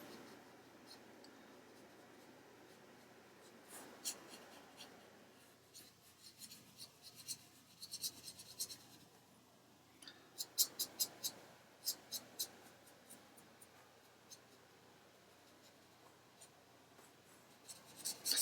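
Soft scratchy rubbing of a pencil tip moving across paper, close and quiet, in short intermittent strokes with pauses between.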